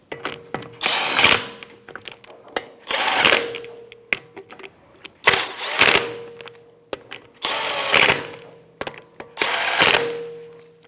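Power tool with a 17mm socket snugging lug nuts in a star pattern on a 2015-2024 Jeep Renegade rear wheel, five loud buzzing bursts of about a second each separated by clicks and short pauses.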